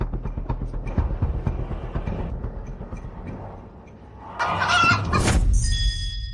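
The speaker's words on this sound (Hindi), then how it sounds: "ये मुर्गी इतनी डर गई है कि अंडा दे बैठी।" A frightened hen clucking close by in a village cockfighting-ring setting, with repeated short clucks in a steady rhythm that later grow louder and busier amid other clatter.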